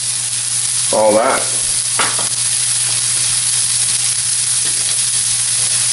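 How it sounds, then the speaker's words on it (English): Shallots and garlic frying in hot oil with popping mustard seeds for tarka dal, a steady close sizzle with a brief stirring clatter near the start and a faint low hum throughout. "throw in all of your shallots and garlic"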